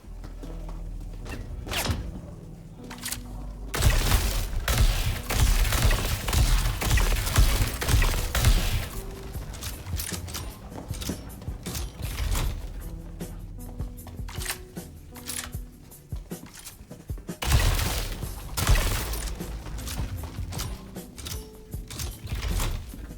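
Zenith laser sniper charge shots in the video game Star Citizen, loud crackling blasts and mechanical clatter arriving in a few dense bursts with quieter whirring gaps between them, no voices.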